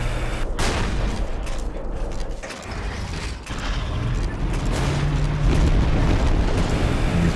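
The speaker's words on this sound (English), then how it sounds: "You see him throwing grenades." Grenades go off in the Empires video game as sharp blasts and bursts of gunfire-like cracks, with a loud thump early on and a heavy rumbling battle noise throughout. Mechanical creaks come through near the end.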